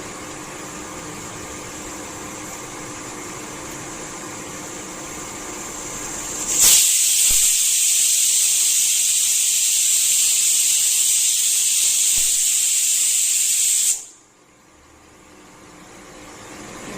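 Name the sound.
pressure cooker whistle and steam hiss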